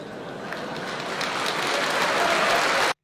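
Crowd applause builds steadily from a studio audience, a dense, continuous wash of clapping that grows louder before cutting off abruptly at the end.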